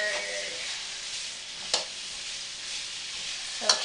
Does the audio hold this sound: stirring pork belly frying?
yes